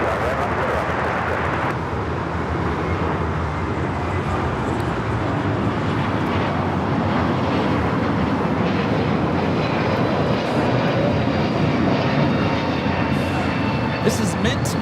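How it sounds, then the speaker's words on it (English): A JetBlue Airbus A321neo takes off at LAX bound for JFK, a loud continuous roar of jet engines filling the whole stretch with broad rumble, while people talk nearby over it. "Taking off to JFK, JetBlue 424. It's an A321neo."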